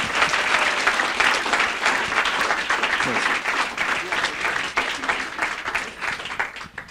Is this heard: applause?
yes